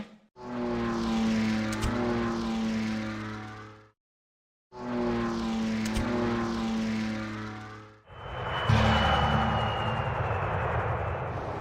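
Lancaster bombers in the strategy game Rise of Nations roar overhead with propeller engine drones in two identical bursts separated by a short silence, then a harsher, noisier burst of engine and attack sound.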